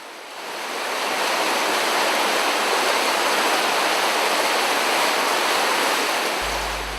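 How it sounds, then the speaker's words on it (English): Steady broadband rush of brooks flowing through the cool woodlands of the Tel Dan nature reserve in Galilee, Israel, a continuous close wash of water that holds level throughout with no voices. "it's refreshing to walk in the cool woodlands with many bubbling brooks beside the footpaths"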